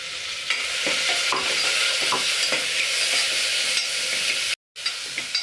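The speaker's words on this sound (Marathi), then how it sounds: "आता परतू घेऊ आपण कांदा आता आपण घालून देऊया आलं लसूण हिरवी मिरचीचं वाटण" Onion sautés with ginger, garlic and green chili paste in a pan, a steady close sizzle broken by repeated scraping stirs of a spoon, with a brief dropout near the end and no talk.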